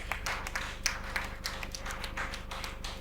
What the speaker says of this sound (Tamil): அவ்வளோ பெரிய வாரியாருக்கு மூணு பேர் தான் கைதட்டிருக்கீங்க